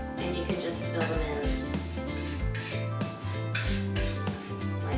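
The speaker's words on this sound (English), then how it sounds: "I use something like this wood filler and a scraper, and you can just fill them in." A scraper spreading wood filler into chips on a piece of furniture, repeated rubbing and scraping strokes close by, with a voice talking over the work.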